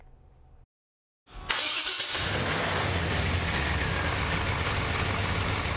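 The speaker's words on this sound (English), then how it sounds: "the purr of the engine inside his 1950 3/4-ton pickup truck" A 1950 Chevy 3/4-ton pickup truck cranks briefly after a moment of silence, then its engine catches and settles into a loud, steady running rumble close by.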